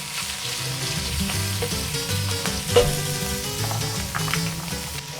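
Chopped squid sizzles loudly in a paella pan for a sofrito, a dense continuous crackle close up with a faint stirring knock near the middle.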